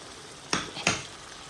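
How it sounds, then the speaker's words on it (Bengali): Spice paste frying in a pan, heard as a faint background sizzle broken by two short scraping bursts of stirring against the pan, close by with no speech. "এখন আমি এই যে পেস্টটা আছে না পেস্টটারে ভাজা দিব"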